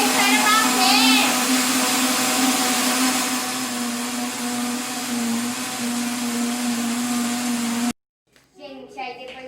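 A kitchen blender whirs steadily while mixing chocolate cake batter with sugar, a loud continuous motor drone with a hum that runs about eight seconds, then cuts off abruptly before a voice speaks briefly.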